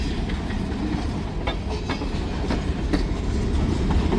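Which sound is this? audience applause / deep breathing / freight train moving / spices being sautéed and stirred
freight train moving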